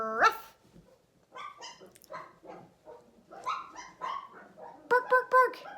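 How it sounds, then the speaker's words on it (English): Several dogs wrestle close by, giving out rough barks, growls and yips in irregular bursts, with a sharper cluster of barks near the end; a person talks between them. "They sound so vicious when they're wrestling."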